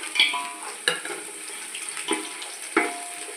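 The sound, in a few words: green chillies and cashews frying with onions in a pan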